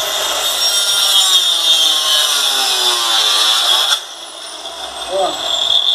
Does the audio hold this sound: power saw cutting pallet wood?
yes